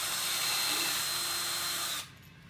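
A power drill whines steadily with a high-pitched bite as it bores through PVC pipe, then cuts off abruptly near the end.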